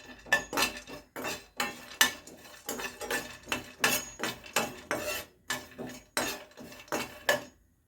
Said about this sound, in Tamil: இப்போ இந்த ஒவ்வொரு நட்ஸுகளெல்லாம் நம்ம வறுத்து எடுத்துக்கிடுவோம்.